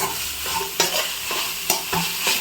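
Chicken noodles being stirred in a pan, with several sharp scraping strokes of a utensil over steady sizzling and frying, close and fairly loud, and no talking.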